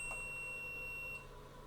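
A Sega Dreamcast VMU memory unit gives a single steady high-pitched electronic beep as it is plugged into the controller, holding for just over a second before cutting off, fairly faint over a low background hum.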